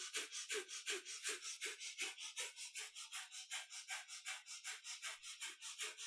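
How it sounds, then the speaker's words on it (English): Breath of fire in kundalini yoga, held in a tabletop position: quick, sharp, rhythmic nasal exhalations, about four per second, steady and close, with nothing else heard. "we're going to lift up into a tabletop position, and we're going to hold this with a breath of fire"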